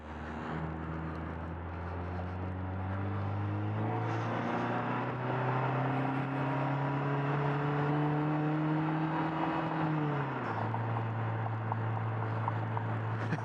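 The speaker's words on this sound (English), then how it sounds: "Just the soundtrack of that turbo and the wastegates and everything moving is hilarious to me." A Vanderhall Carmel's turbocharged engine pulls hard through the gears, a loud, steady rising drone with whooshing turbo whistle and wastegate flutter, the pitch climbing and dropping at each shift, with no talking.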